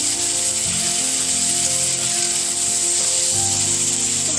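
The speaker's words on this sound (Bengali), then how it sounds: "এই আলুটা এবার ভেজে নিতে হবে।" Potatoes fry with onion, garlic and tomato paste in a pan, giving a steady close sizzle with a faint hum running underneath throughout.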